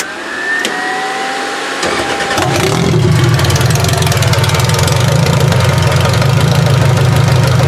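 A damaged Toyota Avalon race car engine cranks, catches and settles into a loud, rough, steady idle close by.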